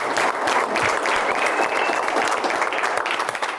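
Warm applause from a studio audience at a live Saturday-afternoon entertainment show during a face-reading game, a dense, steady wash of clapping that holds at full strength for the whole stretch.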